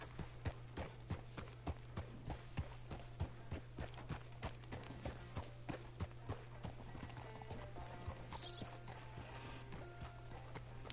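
Horse hooves clip-clopping at a steady walking rhythm in the video game Red Dead Redemption 2, quiet and even under a constant low hum, with a faint whinny-like tone near the end.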